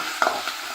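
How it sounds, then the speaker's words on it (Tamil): Onions and curry leaves sauté in a pan for mutton leg paya, a soft continuous sizzle with a quick scraping stir of the spoon partway through, brief and close, no voices. "நல்லா கோல்டன் ப்ரௌனாக வர வரைக்கும் வதக்கலாம்"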